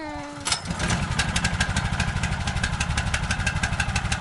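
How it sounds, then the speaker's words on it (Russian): A small boat motor, a fishing boat's outboard out on a taiga river, catches and settles into a steady, fast-pulsing idle that stays close and fairly loud after a brief sharp start. "Лариска заводит баркас"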